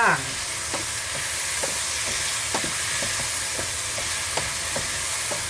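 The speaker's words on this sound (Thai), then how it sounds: "จากนั้นก็ผัดเลยจ้า" Shrimp and vegetables stir-frying in a hot pan, a loud continuous sizzle close up, punctuated by repeated scraping and clinking of a spatula tossing the food in an irregular rhythm.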